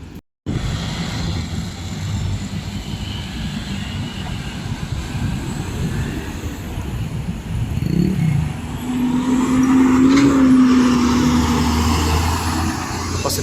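Road traffic with cars and buses passing, a steady loud roar of engines and tires with a rising vehicle pass and a faint horn-like tone near the end.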